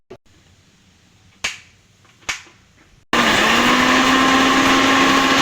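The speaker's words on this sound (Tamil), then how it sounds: "இப்போ பச்சை மிளகு இவ்வளோத்தையும் நல்லா குறைப்பாக பொடிச்சிட்டு வந்துடலாம்" A few sharp clicks and taps, then a mixer grinder starts up suddenly and roars loudly and steadily while coarsely grinding green peppercorns, its motor whine sustained and close.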